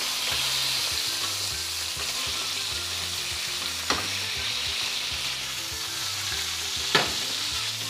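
Steak sizzles steadily in a pan with butter and whole garlic cloves, a dense, close frying hiss that runs unbroken, with two brief sharp clicks partway through and no voices.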